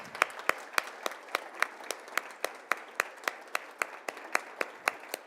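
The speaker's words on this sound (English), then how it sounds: "Let's give another round of applause to our 5 recipients." Steady audience applause at a Hispanic Heritage Month awards celebration, a dense wash of many hands clapping with sharp individual claps standing out in a regular rhythm, moderately loud with no voices.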